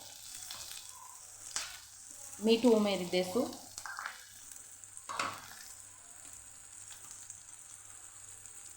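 Onions sizzle and crackle in a hot pan, loudest in a short burst of stirring, while a voice speaks quietly around it.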